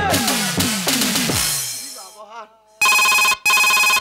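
A telephone rings in two loud, electronic bursts after a stretch of musical sound at an outdoor gajon folk performance.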